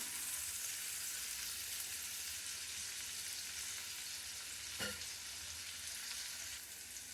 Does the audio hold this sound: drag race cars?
no